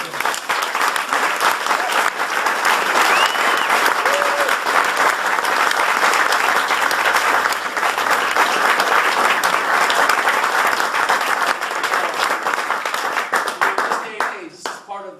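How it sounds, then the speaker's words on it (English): Sustained audience applause for Matt Wilson's Arts & Crafts Quartet, a jazz group playing at Saxquest in St. Louis, with dense clapping that holds steady and loud for the whole stretch before starting to thin near the end. "So I think we should give them a round of applause."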